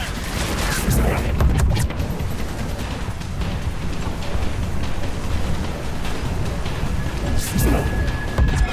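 Gunfire and explosions in the video game Mass Effect 3, a sustained combat din of shots with louder bursts near the start and end.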